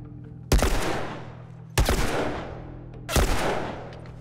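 Gunfire from The Last of Us Remastered on PS4: three loud, sharp shots spaced roughly a second and a quarter apart, each decaying over a steady low background hum.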